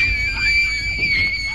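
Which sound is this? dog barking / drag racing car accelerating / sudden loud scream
sudden loud scream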